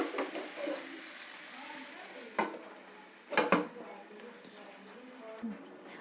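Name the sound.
stirring chicken biryani in a pan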